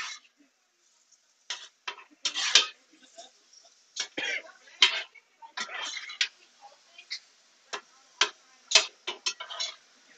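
Scattered bursts of coughing from several people reacting to spice fumes while cooking, sharp and irregular, some clustered together, over an otherwise quiet background.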